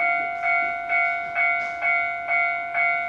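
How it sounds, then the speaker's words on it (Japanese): A KiHa 183 series diesel limited express Okhotsk pulls into a station at night, its steady tonal whine accompanied by regular rhythmic rail-joint clacks repeating about every half second, fairly loud and close, with no talk. "3番線に列車が到着いたします。"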